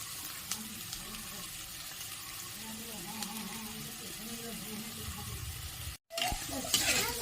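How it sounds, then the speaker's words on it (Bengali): Vegetables for street-style egg chowmein stir-fried in a pan, with a soft continuous sizzle and scraping stir strokes. A voice talks over the cooking, there is a brief dropout near the end, and then the frying resumes. "আগে আমি এগুলো খুব ভালো করে ভেজিটেবলসগুলো ভেজে নেব"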